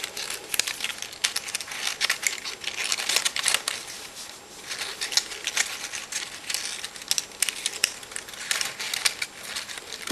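Paper card bent and flexed as its slotted edges are fitted over each other while folding a paper teaset, giving continuous close crinkling and crackling rustle throughout with no speech.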